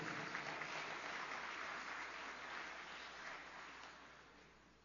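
A room of attendees applauds to welcome a speaker at a reflection event, a soft, steady patter of clapping that gradually fades over about five seconds.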